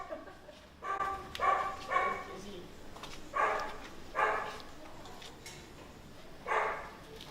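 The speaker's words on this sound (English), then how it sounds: "if she starts barking, then all of the other dogs start barking" A nervous dog at an animal shelter barking in separate bursts, about five or six sharp barks spaced across the stretch, moderately close with quieter pauses between.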